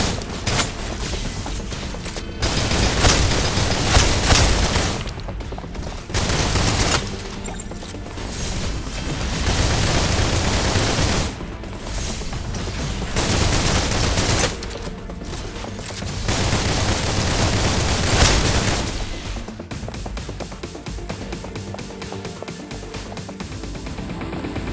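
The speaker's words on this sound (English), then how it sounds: "Hold position, maintain fire." Rapid gunfire from the mobile shooter game Snowbreak comes in loud, dense bursts and volleys separated by short pauses, with no voices.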